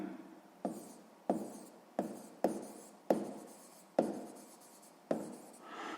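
Pen or pencil writing by hand in a math notebook during a sixth-grade fraction exercise, a steady run of close scratching strokes broken by about eight sharp taps as the tip lands, with no talk.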